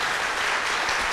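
A crowd claps steadily in a brief, dense burst of applause, close and fairly loud.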